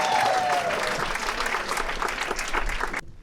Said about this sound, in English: Give her an applause, y'all.